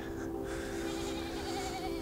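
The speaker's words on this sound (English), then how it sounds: "My guess is that the sheep are there because they go in at night to warm themselves up." Sheep sheltering in a peat-insulated shelter in Iceland bleat in a faint, sustained, wavering call against a quiet background.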